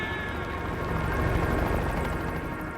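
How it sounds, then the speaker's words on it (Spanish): Helicopter rotor blades chop close by amid a snowstorm, a loud steady pulsing whir that holds for a few seconds without voices. "El sonido de las aspas del rotor se siente muy cerca."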